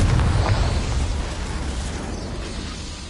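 A Confringo blasting spell goes off in a Harry Potter game: one loud, booming burst at the start with a deep low rumble that slowly fades and lingers through the rest.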